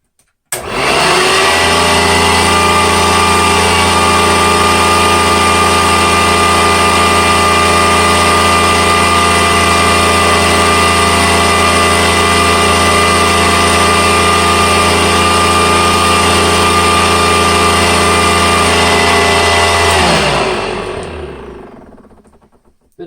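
An unrestored Sanitaire SC899 upright vacuum cleaner with its bag removed starts up, holds a loud, steady motor whine for about eighteen seconds, then winds down to silence.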